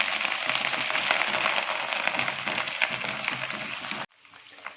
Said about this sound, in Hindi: अब इसके अंदर 2 चम्मच अदरक लहसुन का पेस्ट ऐड कर देना और इसको तकरीबन 1 मिनट के लिए पकाना है हमने